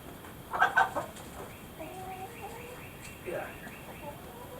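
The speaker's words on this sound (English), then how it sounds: "We're going to get attacked by the rooster here." A rooster clucking among chickens in a barn, soft short calls near and faint, with a louder squawk early on and quiet murmured talk underneath.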